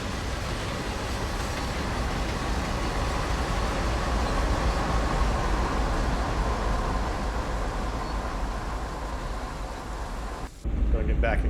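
A CSX heavy-haul freight train rolls past in Train Sim World, a loud, steady rumbling roar with rail clatter sustained throughout before cutting off abruptly near the end.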